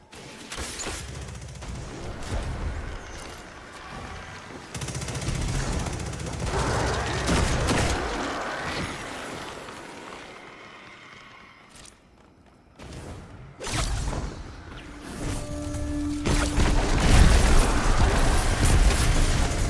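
Sustained rapid gunfire from volatile rounds in Destiny 2: Witch Queen, dense bursts of shots and impacts that swell and fade across the fight, with a short lull before heavier firing resumes near the end.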